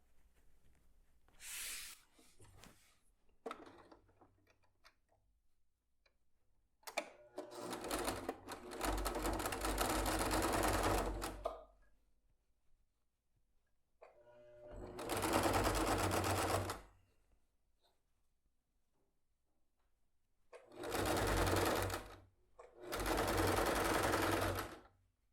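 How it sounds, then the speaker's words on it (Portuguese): A sewing machine runs a safety seam on a bag in several bursts of rapid stitching, each a few seconds long, separated by quiet pauses and faint handling noises, close and moderately loud. "você passa uma costura de segurança aqui"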